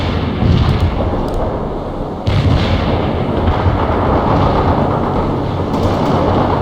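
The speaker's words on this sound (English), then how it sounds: "Mortar strike completed." Mortar strike explosions in the video game World in Conflict: a dense, loud barrage of booming blasts and rumbling impacts rolls on continuously, with a sharp fresh burst partway through and no voices.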